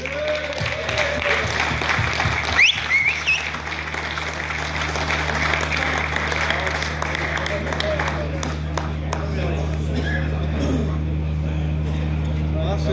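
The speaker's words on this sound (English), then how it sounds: "A big round of applause and welcome," An audience at a Cadwell Park motorcycle event gives steady applause to welcome a TT racer onstage, clapping spread over the whole stretch with a constant low hum and some crowd noise beneath it.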